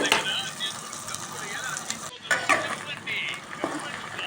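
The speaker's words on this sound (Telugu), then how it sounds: "రుబ్బుకున్న పేస్ట్ని ఈ తాలింపులే వేసేసుకోవడమేనండి తాలింపు అనేది ఎర్రగా వేగితే బాగుంటుందండి" Ground gongura chutney paste fries in tempering oil, giving a steady, close sizzle with intermittent stirring scrapes against the pan.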